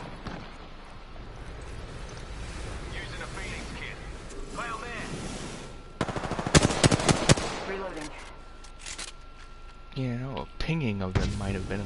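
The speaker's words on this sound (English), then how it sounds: "They're shooting at me." Apex Legends gunfire: bursts of rapid automatic shots arrive in clusters over wind-like game ambience, with a voice talking and chatter through much of it.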